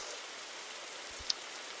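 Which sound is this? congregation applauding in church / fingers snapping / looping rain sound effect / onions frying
looping rain sound effect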